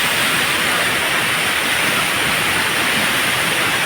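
A waterfall on a rocky cliff path, met while climbing after traditional bamboo crab catching, gives a loud, steady, close roar of rushing water with no breaks or voices.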